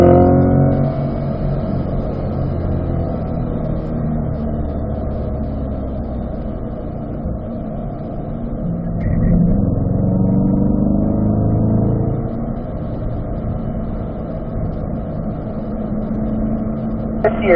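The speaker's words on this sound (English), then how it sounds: "Push that gas pedal all the way to the floor, sir. Up to 4th gear, then up to 5th gear." A car accelerates hard through the gears on the Spring Mountain race track, a loud, sustained engine roar climbing and dipping with each shift, heard from inside the car without talk.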